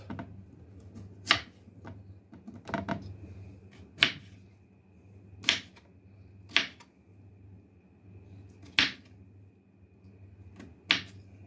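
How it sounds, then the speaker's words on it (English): Potatoes being chopped on a cutting board, with sharp, evenly spaced knife strikes landing every second or so, close by and alone over a low steady hum. "Let's go ahead and get these things cut up."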